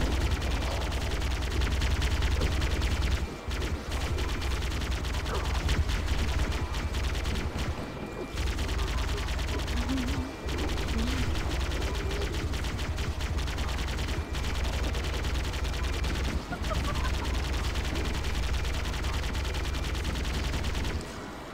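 Scattered gunfire in a Halo firefight, heard as repeated bursts and sharp shots over a steady loud backdrop of combat noise, with no talking.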